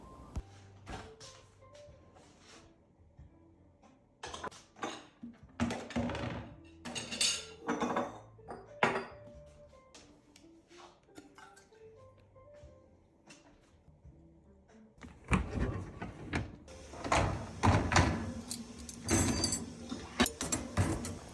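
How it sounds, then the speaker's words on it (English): Dishes, cutlery and racks clatter and clink as a Frigidaire dishwasher is loaded. Irregular close knocks and rattles come in clusters, with a louder, denser stretch of clanking near the end. "I'm seeing how many dishes I can load in my Frigidaire dishwasher"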